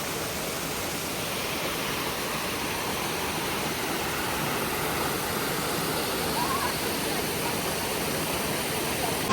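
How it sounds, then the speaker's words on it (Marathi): A waterfall along the mountain road from Gangtok to Lachung gives a loud, steady, close roar of rushing water that fills the whole stretch without pause. "एकदम मस्त वॉटरफॉल आहे"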